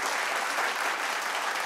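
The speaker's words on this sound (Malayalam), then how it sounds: "വലിയ കൈയടിയോടെ സ്വാഗതം ചെയ്യാം" Steady, full applause from a studio audience on a Malayalam comedy show, welcoming two guest performers onstage; dense clapping throughout with no talk over it.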